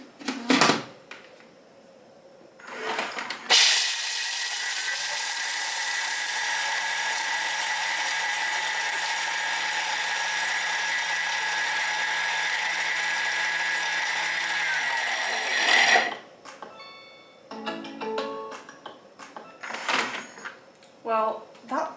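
A kitchen grinder blitzes baking ingredients in one loud, steady whir lasting about twelve seconds, with a sharp start and stop; voices talk briefly before and after it.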